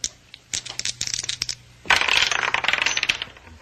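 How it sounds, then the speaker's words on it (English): A pair of dice is rolled on a hard surface, giving a series of sharp clattering ticks and bounces, then a denser rattling spin that carries on as one die keeps turning. The sound is close and has no talk over it. "One of the dice turns up a 6 while the other still spins."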